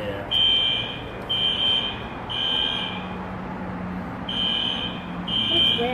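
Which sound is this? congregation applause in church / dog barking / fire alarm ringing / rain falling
fire alarm ringing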